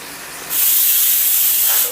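A pressure cooker whistle suddenly releases a loud, continuous hiss of steam during the cooking of a fish biriyani with natholi (anchovy), sustained close up for over a second before easing off.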